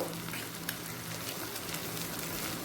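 Onion paste frying in a pan over low heat for a Bengali bhetki fish-bone chorchori gives a steady, moderately loud sizzle with faint stirring and no voices.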